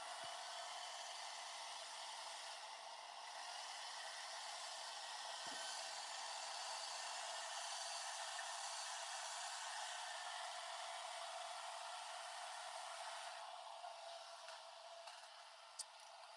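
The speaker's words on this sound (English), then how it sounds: "I'm gonna hit this with a hair dryer so I can pick it up and hold it." A hair dryer blows steadily on a soft plastic fishing lure during airbrushing, a loud continuous rushing whir lasting the whole stretch, with a brief change in tone partway through and no voices.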